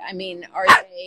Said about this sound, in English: and sorry about my dog barking.